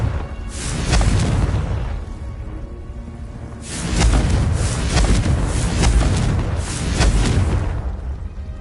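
In the video game Hogwarts Legacy, a Confringo fire blast spell goes off as loud booming explosions. Two or three heavy blasts come close together with whooshing bursts, and no one speaks.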